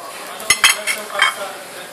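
Pre-blanched pasta tossed into a pan, with a few sharp clinks of utensil against metal and a light sizzle, close and fairly loud over a steady kitchen hiss.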